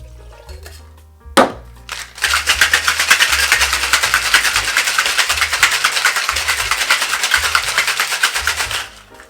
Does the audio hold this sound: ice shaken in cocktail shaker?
yes